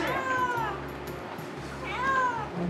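A cat waiting at a veterinary clinic for laparoscopic neutering meows twice, drawn-out and plaintive, over a steady background hum.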